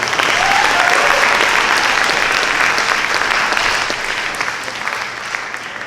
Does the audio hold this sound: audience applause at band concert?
yes